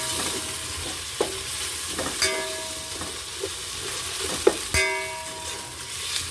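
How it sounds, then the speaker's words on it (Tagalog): Vegetables stir-fried in a pan for pansit bato, a Bicol noodle dish, with a steady low sizzle broken by several sharp clanks of a utensil against the pan. "medyo lutuin lang natin ng unti ang ating gulay."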